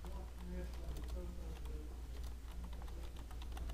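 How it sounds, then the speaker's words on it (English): Computer keyboard typing at a lecture registration, a rapid run of light clicking keystrokes under low steady hum, with speech mixed in faintly. "Go ahead and type that in."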